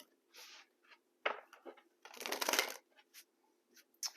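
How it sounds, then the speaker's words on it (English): Tarot cards are shuffled in quick riffling bursts with soft taps and slides between, close and fairly quiet. "One more shuffle."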